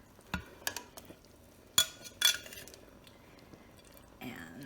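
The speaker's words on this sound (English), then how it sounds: "I am now going to tuck in the pork, and they will finish cooking." Pork chops are set back into a frying pan, giving several clinks and scrapes of utensil against pan with a gentle sizzle rising at the end, quiet and close.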